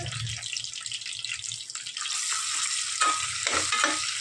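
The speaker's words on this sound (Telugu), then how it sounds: "కొంచెం మిక్స్ చేద్దాం." Food is stirred in a hot, sizzling pan with steady scraping and bubbling frying sounds up close, getting slightly busier toward the end.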